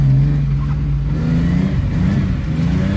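A BMW E30 wagon drifting at a track: the engine drones loudly and steadily close by, with a slight rise and fall in revs and no talking.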